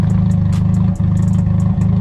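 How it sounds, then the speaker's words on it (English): A straight-piped Nissan S15 idles close by, its deep, lumpy exhaust burble pulsing steadily with a brief dip before settling back into a rough, loud rhythm. "We've got it idling at the moment."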